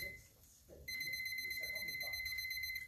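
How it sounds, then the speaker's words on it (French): A small kitchen timer is set while a chickpea curry cooks, then rings with a steady, continuous electronic beeping that starts abruptly and carries on loudly to the end, with faint movement beforehand. "je vais mettre mon petit minuteur"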